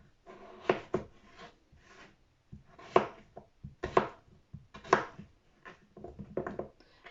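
Knife chopping red potatoes into cubes on a cutting board, a run of close, sharp knocks that come in uneven bursts, with a louder stroke about every second, and no talking.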